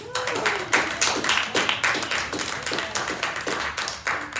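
A spoken word audience at an art gallery claps, close and uneven, with distinct sharp claps from a small group repeating throughout at a brisk, irregular rhythm.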